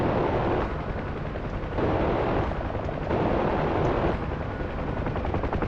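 A UH-1H Huey helicopter in DCS World opens fire, its steady rotor drone overlaid with loud bursts of rapid gunfire roughly every second, close and continuous with no voices.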